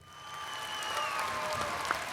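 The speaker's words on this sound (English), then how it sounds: "Audience claps. Maybe some cheers." Audience applause plays as a sound effect, a steady swell of clapping from a crowd that holds evenly at moderate loudness with no voices.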